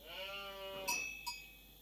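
Single sheep bleat in the strategy game Age of Empires IV, a short wavering nasal cry followed by two small clicks, quiet and alone.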